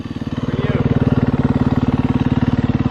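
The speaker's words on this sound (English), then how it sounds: "New dirt bike for me?" A 350cc dirt bike engine runs close by in a loud, steady idle with an even, rapid throbbing pulse that holds for the whole stretch, no one talking over it.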